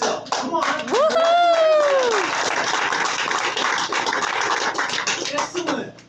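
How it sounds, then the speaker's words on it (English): Graduating high school students at an indigenous Cabécar outreach event applaud themselves, a dense burst of clapping lasting several seconds while a voice calls out over it and hoots rise above the hands. "Applaud yourself."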